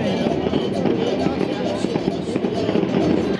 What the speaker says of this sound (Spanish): los fuegos artificiales son ya una tradición cada mes de octubre